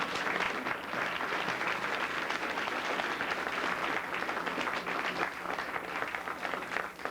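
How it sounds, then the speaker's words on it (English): Sustained audience applause fills a hall at an evening gathering honoring Coretta Scott King, a dense, steady wash of many hands clapping at even loudness from start to finish, with no voices standing out. "let's give each other a round of applause"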